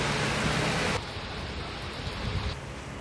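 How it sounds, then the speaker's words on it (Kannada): Heavy rain pours over the Malnad hills of Chikkamagaluru district, a dense, loud, steady hiss that fills the whole scene with no voices. "ಚಿಕ್ಕಮಗಳೂರು ಜಿಲ್ಲೆಯ ಮಲೆನಾಡು ಭಾಗದಲ್ಲಿ ಧಾರಾಕಾರ ಮಳೆ ಸುರಿತಾ ಇದೆ."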